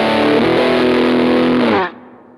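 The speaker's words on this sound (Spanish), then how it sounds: "Bajamos a lo mejor un poquito más la distorsión del Blues Junior" Electric guitar played through a Fender Mustang GTX100 amp with Blues Junior distortion, a loud sustained distorted chord that shifts once, rings, then cuts off sharply into near silence.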